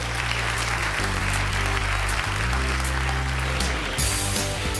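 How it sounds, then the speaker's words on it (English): Applause fills a stage show, a dense continuous wash of clapping over a loud low sustained musical drone, with the level staying even throughout. "There's only enough applause for one."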